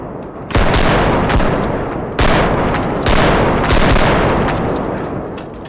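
Loud bursts of automatic gunfire in the shooter game Bodycam, several heavy volleys separated by brief gaps, close and dense with booming reports.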